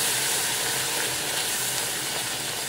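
Stock being poured little by little into brown sauce in a pan over moderate heat and stirred, heard as a steady, even sizzle and hiss with no talking.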